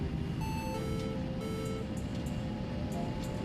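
Repeated electronic warning tones in an airliner cockpit at takeoff roll, the autothrottle disconnect alert, beep in bursts of steady pitch over a loud, continuous low engine and rolling rumble.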